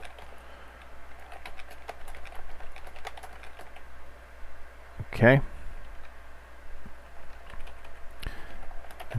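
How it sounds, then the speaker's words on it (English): Rapid clicking of a computer keyboard during a live coding session, with brisk uneven keystrokes running steadily under and around a brief spoken word. "typing too fast."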